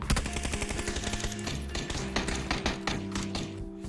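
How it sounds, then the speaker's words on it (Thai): Gunfire in the video game PUBG, with rapid bursts of automatic shots and scattered single cracks over about four seconds, loud and close over a steady game background, and no talking. "มีเสียงคนยิง"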